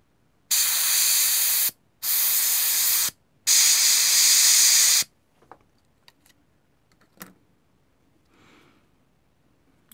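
An airbrush painting a scale Focke-Wulf model gives three close, loud bursts of sharp spraying hiss with short gaps between them, followed by scattered quiet clicks and taps.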